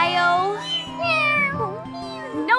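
Cartoon kittens mewing in a quick run of high, bending meows, several voices overlapping up close and clear, with no talk over them.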